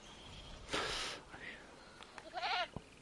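A goat in the video game Jurassic World Evolution bleats twice, a quivering cry in the middle and a longer wavering one near the end, faint under game ambience.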